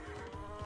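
Cows mooing in the real-time strategy game Age of Empires 2, a single short low moo heard alone.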